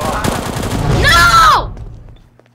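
A gunshot from the Roblox game Counter Blox cracks out once, loud and near, in the middle of excited player voices that continue around it.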